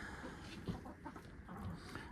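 Backyard chickens in a snowy coop with the door kept closed against the wind cluck faintly and intermittently, a few soft calls rising from steady low outdoor background noise.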